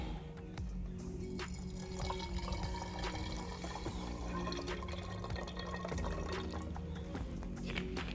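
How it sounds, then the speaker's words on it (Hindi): Small amount of water poured into a plastic bottle holding caustic soda and cut medicine-packet foil, a faint steady trickle and gurgle at close range. "थोड़ा सा पानी ऐड कर लेते हैं अब इसमें।"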